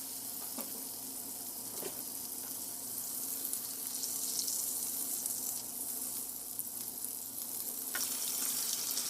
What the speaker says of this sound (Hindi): कढ़ाई में मक्खन डालकर पिघला लें।